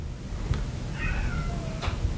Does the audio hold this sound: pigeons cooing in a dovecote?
no